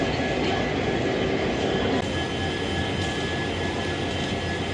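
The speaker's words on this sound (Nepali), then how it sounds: "हामी चाहिँ स्टेसन आइपुगिसकेको छौँ र हाम्रो यहाँ ट्रेन छ" A train at the New Jalpaiguri railway station gives off a continuous, loud, broad rumble with a faint high whine running through, steady throughout.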